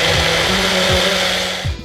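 A kitchen blender whirs steadily, blending a popsicle mixture sweetened with a quarter cup of honey, its motor loud and close with a few pulsing surges before winding down.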